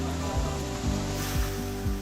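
A waterfall spills above an open-air hot spring pool in Jordan as a steady, dense rush of falling water. A low droning hum runs beneath it.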